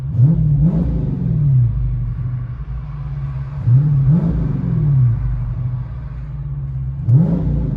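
A 2018 Dodge Charger 392 Scat Pack with a 6.4L HEMI V8 and dual exhaust fitted with Jones JFP, idling with a loud deep rumble broken by three sharp revs that rise and fall, close and unaccompanied.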